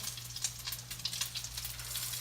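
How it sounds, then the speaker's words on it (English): Salmon cakes sizzle and crackle in a hot pan, a steady frying hiss with small pops, close by and heard on their own. "And that's what you want to hear. You want that sizzle"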